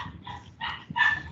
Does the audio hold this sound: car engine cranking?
no